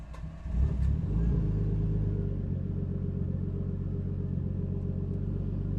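A Nissan Skyline R34 engine starts with a brief burst of revving, then settles into a steady, deep rumbling idle, close and continuous.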